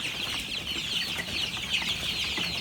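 Healthy Andijon black chicks, a little over a month old, kept indoors for sale in Jarqo'rg'on, Surxondaryo, give a steady, dense chorus of high peeping from many birds, close and continuous.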